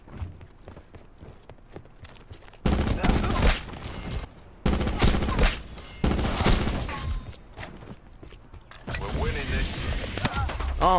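Black Ops 4 gunfire comes in loud, dense bursts of rapid shots separated by quieter stretches, with clattering footsteps and game effects between volleys, heard close and up front.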